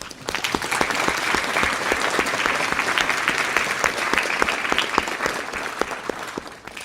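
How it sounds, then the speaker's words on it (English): A full audience at an autumn student project presentation night gives a sustained round of applause, dense and steady for about seven seconds with no talking. "Can I get one more round of applause for all the participants?"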